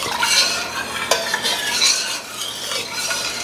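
A spoon stirs salt and sugar into a pickled beet mixture in a pot, giving a steady, close scraping and swishing with faint clinks and no talking.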